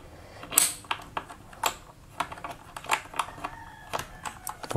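Plastic clicks and scrapes as a keycap puller grips and pulls keycaps off a Corsair keyboard, a string of sharp close taps and snaps spread over several seconds with no talk.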